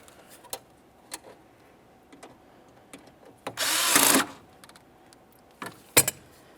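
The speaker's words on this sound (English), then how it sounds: "Let's put in our Phillips head screw to ground this out properly." A Phillips head screw is driven in to ground a wire on flip-up towing mirrors for a 1994-2002 Dodge Ram 2500, heard as one short whirring burst of a power driver between scattered light clicks and ticks.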